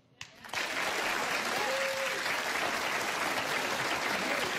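Studio audience applause bursts in after a brief quiet start and holds steady and loud, a dense wash of clapping from a talk-show crowd.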